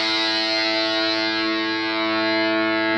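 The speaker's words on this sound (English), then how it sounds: "Distortion." Heavily distorted electric guitar tone from a phone guitar app, a dense buzzing sustained chord ringing steadily and loudly for the whole stretch with no voices.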